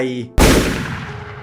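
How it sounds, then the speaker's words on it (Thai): A single loud gunshot cracks out abruptly after a brief voice, then its echo slowly decays away. "เสียงปืนแผดลั่น"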